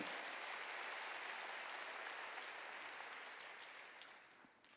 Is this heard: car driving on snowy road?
no